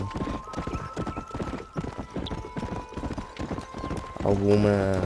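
Horse hooves gallop in Red Dead Redemption on Xbox 360, a quick, close, rhythmic clip-clop running throughout, turning into a loud neigh at the end, with the galloping partly under talk.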